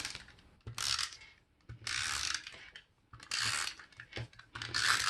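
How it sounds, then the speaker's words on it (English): Adhesive tape runner pulled across the back of printed paper for a hand-lettered notecard, giving several short raspy clicking bursts with pauses between, close up and alone. "I'm going to place my adhesive on the back of my printed paper."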